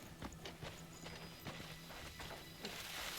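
Horse hooves clip-clop at a steady walking pace in the Crimson Desert video game, a moderately loud run of evenly spaced hoof strikes over a soft ambient background, with no talking.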